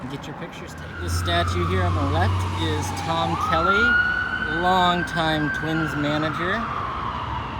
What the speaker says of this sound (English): Sorry if you can hear the sirens in the background